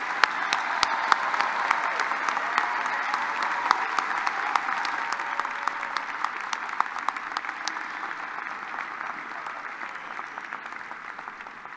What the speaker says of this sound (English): And now a round of applause for our newly minted